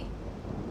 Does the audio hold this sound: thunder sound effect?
yes